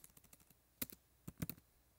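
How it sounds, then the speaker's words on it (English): Computer keyboard keys typed in short bursts, a few light taps followed by louder clustered clicks, close and quiet with no one talking. "if I was to type something"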